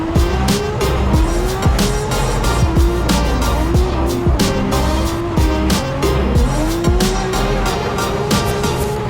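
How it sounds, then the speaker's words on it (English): A 2JZ-powered BMW drift car at Formula Drift Irwindale screeches its tires continuously through a banked turn, engine roaring loud and close, with rhythmic squeals and revs repeating over a steady crowd-and-track din. "That 2JZ powered BMW initiates into the bank."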